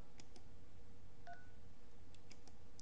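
Phone keypad dialing tones: short tone beeps pressed in a quick irregular sequence, with a brief brighter tone partway through, heard faintly over a steady background hiss.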